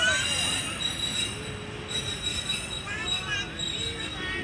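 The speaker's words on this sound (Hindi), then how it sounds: "ये खड़ी हुई है 18 डाउन मिलत एक्सप्रेस लालिया रेलवे स्टेशन पर" The 18 Down Millat Express stands at Lalian railway station in Pakistan while wheels squeal with a high, sustained metallic screech. Rail rumble runs underneath, close by.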